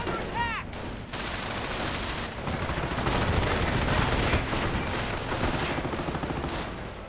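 Machine gun fire from a half-track and a Greyhound armored car in a World War II strategy video game, dense overlapping bursts and rattling volleys, fairly loud, running continuously under other battle noise.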